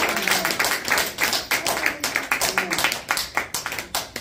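A church congregation claps in rhythm to acclaim the word during a sermon, steady repeated hand claps filling the room.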